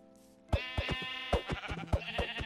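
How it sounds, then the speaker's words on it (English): A sheep bleats in Minecraft, a nasal wavering cry with repeated pulses, heard close and loud over a quieter background tone. "It's a sheep."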